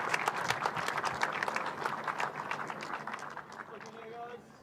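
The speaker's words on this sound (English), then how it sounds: "Ladies and gentlemen, be loud in your applause" A crowd applauds the race winner at a trophy presentation at Hampton Downs Motorsport Park, with a brisk, crackling burst of clapping that gradually fades, while a voice speaks near the end.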